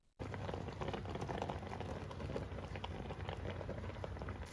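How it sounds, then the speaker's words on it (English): Chicken pieces and egg for oyakodon simmering in a pan, a steady fizzing, bubbling crackle that stays close and even throughout with no voices. "wait till the edges of the pan start to simmer"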